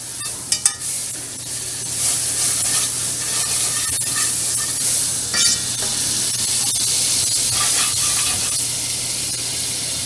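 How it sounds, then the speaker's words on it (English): A tablespoon of butter melts in a pan to start a cheese sauce, giving a steady, bright sizzle and hiss throughout with a few faint clinks near the start and no voices. "we're just gonna start by melting 1 tablespoon of butter"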